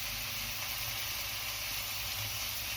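Onions and beef burgers frying on high heat, a loud, dense, unbroken sizzle that stays steady and close throughout.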